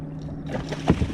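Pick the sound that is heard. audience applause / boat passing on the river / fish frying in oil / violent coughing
boat passing on the river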